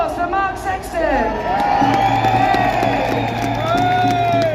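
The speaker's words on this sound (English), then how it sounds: "Everyone, round of applause for Mark Sexton." A large protest crowd in London cheers, whoops and shouts for a speaker, a dense, sustained roar with high voices rising over it and a steady low rumble underneath.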